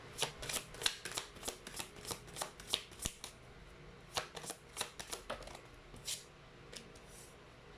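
Tarot cards being shuffled and pulled by hand: a steady series of crisp riffling, flicking snaps at close range over a low background hiss, no talking.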